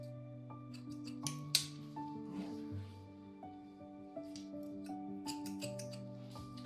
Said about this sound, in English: just cut off any little wispy bits